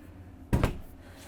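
A heavy-duty wooden door in a 2022 Thor Four Winds 31WV Class C motorhome swings open, a single short thud-and-rattle burst, close and distinct against a quiet room.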